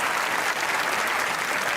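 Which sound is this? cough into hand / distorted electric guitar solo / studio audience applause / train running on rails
studio audience applause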